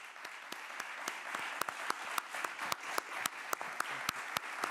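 Applause for the film team closes a press conference, a fairly faint but dense patter of many hands with distinct sharp claps cutting through, continuing steadily throughout.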